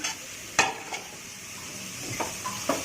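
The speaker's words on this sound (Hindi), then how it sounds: "अब ये प्याज डाल रहा है" Steady sizzling of onions frying in a pan with a few scraping stirs and light clinks of a utensil against metal, close by with no talking.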